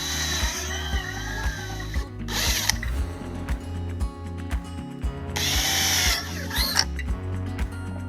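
A power drill bores pilot holes through stacked aluminum siding sheets from a vintage camper, with steady whirring bursts, a couple of louder high-pitched surges as the bit cuts through, and clicking ratchet-like mechanical chatter throughout.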